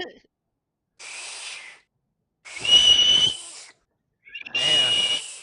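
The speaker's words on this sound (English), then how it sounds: "I got that dad whistle" Three loud, shrill whistles, each about a second long with short pauses between, sounding close by during a casual indoor hangout with friends.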